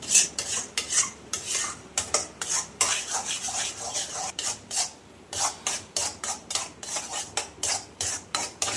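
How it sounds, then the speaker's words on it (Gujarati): Mawa for peda is stirred in a pan, with a spoon scraping and rasping against the metal in quick repeated strokes, close and fairly quiet, with a faint sizzle underneath. "આ રીતે આપણે હલાવતું રહેવાનું છે."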